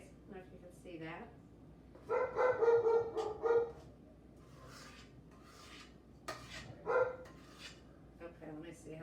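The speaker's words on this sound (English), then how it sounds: "you're gonna hear my dogs barking" Pet dogs barking indoors in a home kitchen during cheesecake baking: a burst of several sharp barks, then a single later bark, with faint dish and utensil clatter and quiet background noise between.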